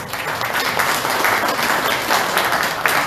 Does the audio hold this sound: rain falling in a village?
no